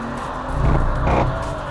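A rear-wheel-drive BMW M3 Competition with 510 horsepower accelerates, a brief, loud engine surge that rises and peaks over under two seconds, heard close with no talk.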